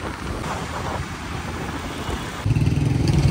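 A motorcycle running low on petrol rides toward Malir Mandi in the late afternoon, its engine buzzing under heavy wind rush, with the engine noise growing louder and rougher near the end.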